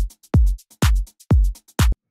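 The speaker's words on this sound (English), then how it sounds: "It's just the hi-hat combined with the shaker." A looped percussion pattern built from hi-hat and shaker plays four strong, evenly spaced hits, each followed by a short decay, with lighter ticks between them and no voices.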